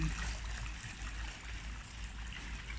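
Water runs in a steady, soft stream at a water offering station in Tzs Shan Monastery, Hong Kong, a continuous faint trickle and gurgle with a low hum beneath and no talking.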